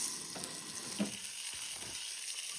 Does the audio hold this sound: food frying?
yes